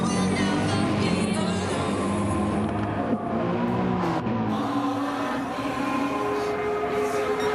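An Audi R8 race car screaming flat out near 280 km/h at Mount Panorama in a racing video game, a loud continuous high engine howl with brief dips as it shifts, no speech.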